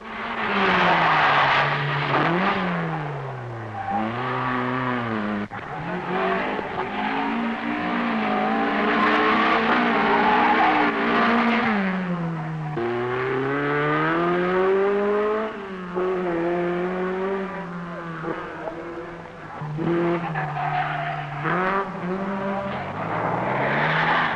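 A 1975 Monte Carlo Rally car pulls out of a ditch and drives off, its engine revving hard through rising and falling gear changes, loud and continuous with no talking.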